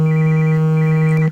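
A mobile phone ringtone plays loud and close as a steady sustained tone that cuts off abruptly at the end, with no voices over it.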